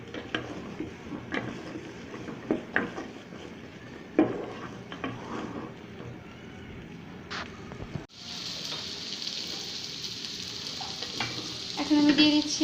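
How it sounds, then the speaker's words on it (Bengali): Chickpeas frying with spices in a pan, heard as close, continuous sizzling with scraping spatula strokes; partway through the sizzle turns brighter and hissier, with a few clinks of utensil on metal. "ছোলাটা আমি একটু মশলার সাথে কিছুক্ষণ ভেজে নেব।"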